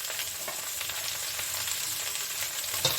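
Pointed gourd, ridge gourd and drumstick pieces fry for shukto, giving a steady, close hiss of sizzling oil that holds even throughout with no talk.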